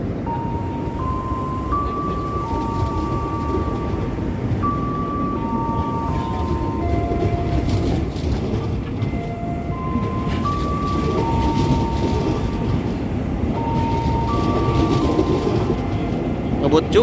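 An Inka-built KRL electric commuter train departs a station, its steady rumble and wheel noise filling the scene while tonal chime or announcement notes sound over it and voices talk in the background.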